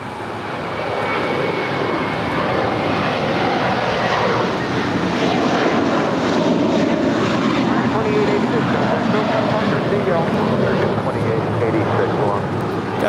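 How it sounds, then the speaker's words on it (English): An American Airlines Airbus A321, seven years old, departs LAX bound for Dallas Fort Worth, its engines a loud, steady broadband roar that holds for the whole stretch with little change. "2886 departing to Dallas Fort Worth. It's a 7-year-old Airbus A321."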